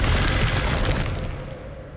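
A Confringo fire spell blasts in the video game Hogwarts Legacy, a loud booming explosion with a dense burst that fades into a rumbling tail over about two seconds.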